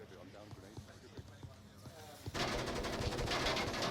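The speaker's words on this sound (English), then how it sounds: "we see shots fired, grenades going out, some smoke coming" In the video game Breachers, scattered sharp gunshots pop in quick succession before a louder, dense burst of fire and explosive grenade noise fills the last second and a half.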